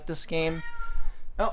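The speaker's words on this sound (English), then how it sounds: "that's just the cat interrupting the video" A house cat meows loudly and close up, a drawn-out cry followed by a shorter one, cutting across a person who is talking.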